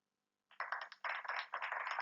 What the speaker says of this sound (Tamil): ஒரே கைத்தட்டல்.